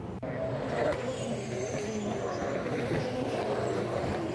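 Supercars race cars running at full speed near a hairpin on a street circuit, a continuous distant roar of engines with shifting pitch blending into a busy background.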